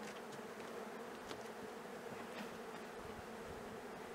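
Honey bees hum in a steady, dense drone at a hive being given winter feed from a bucket with holes drilled in its lid, with individual bees buzzing past the microphone now and then.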